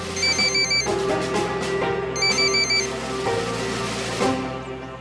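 A telephone rings in repeated electronic bursts with short pauses between them, clear and nearby, with no voices.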